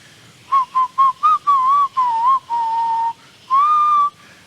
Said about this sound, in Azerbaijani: Sən elə fit çalacaqsan.